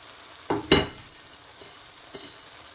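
Cabbage is sautéed in a hot pan, with two quick sizzling bursts as the leaves are tossed in and stirred, followed by a fainter sizzle shortly after.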